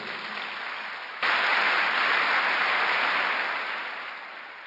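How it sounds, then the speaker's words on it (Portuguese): A congregation at a Sunday church service breaks into sustained applause, a dense wash of many hands clapping at once that swells abruptly, holds steady and then gradually tapers off. "Vamos dar um aplauso a Jesus?"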